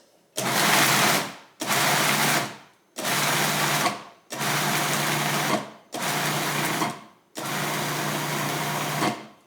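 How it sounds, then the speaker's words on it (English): A food processor pulses a chickpea falafel mixture in six loud, close bursts of whirring motor, each lasting about one to two seconds and separated by short pauses. "Now we don't want to make it mushy, so keep an eye on it. I'm just going to pulse it."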